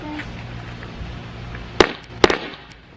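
A firework shot toward a backyard pool fails to burst, leaving only two sharp, close cracks a moment apart over a low, quiet outdoor background.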